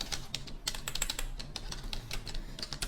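Rapid, uneven keystrokes on a computer keyboard, close and fairly loud, clattering steadily for about three seconds with no voice over them.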